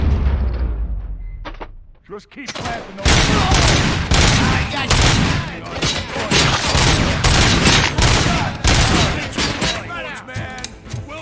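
Rapid bursts of automatic gunfire and explosions in the video game RoboCop: Rogue City, loud and close and nearly continuous after a short quiet opening, with brief spoken lines mixed in.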